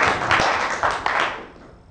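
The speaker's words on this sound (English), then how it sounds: "So please, a big applause for Ot van Daalen." A conference audience breaks into a short burst of applause as a speaker is welcomed on stage, a dense wash of clapping that swells quickly and then fades away within two seconds.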